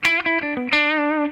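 An electric guitar played through side A of a Mythos Vipera dual overdrive pedal gives a short, close, distorted phrase of a few picked notes ending in a sustained, harmonically rich tone.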